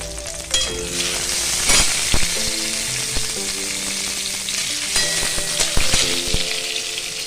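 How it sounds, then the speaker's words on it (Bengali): Loud, constant sizzling of two whole green chillies frying in a wok, with occasional sharp clinks and scrapes of a utensil; no voices. "দুটো গোটা কাঁচা লঙ্কা একটুখানি ভেজে নেওয়া হবে অল্প ফ্লেমে"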